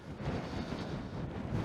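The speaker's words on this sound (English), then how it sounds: "It's extremely windy outside" Strong wind buffets a Rode Wireless Go II microphone recording internally while hiking outdoors at Bastneset, producing a steady, close, broadband rumble that continues throughout without a break.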